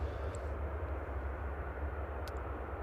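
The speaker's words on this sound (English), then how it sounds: "A380 is heading out." An Emirates Airbus A380 airliner heading out at Manchester Airport gives a steady, low, distant engine rumble that holds evenly throughout with no voices.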